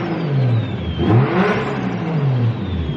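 A Toyota JZX100 with a fresh titanium exhaust revs up and settles back in a couple of swelling engine pulls, loud and close, with a rising whine over a deep steady drone.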